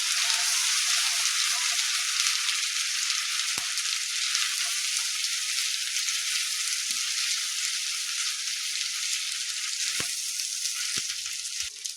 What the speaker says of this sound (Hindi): एकरो 30-40 सेकेंड भुजबाक छै, जैसे कि कच्चापन एकर लहसुन के निकलि जाए।